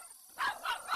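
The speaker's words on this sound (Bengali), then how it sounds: "কুকুরগুলো ডাকছে কেন?" Cartoon dogs bark in a short burst of two or three yelping barks at night, following a brief quiet moment. They sound moderately loud and nearby, and no one speaks over them.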